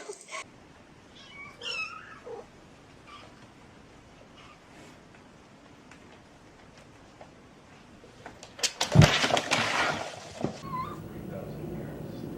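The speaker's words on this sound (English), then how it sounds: "You're an evil cat." A cat meows in a few short calls early on, fairly close, followed by a louder burst of clattering and rustling, with a person's voice heard in between.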